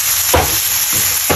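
Meat frying in a pan for ginataang sigarilyas, a steady close sizzle broken by three scraping stirs of a utensil at roughly even intervals.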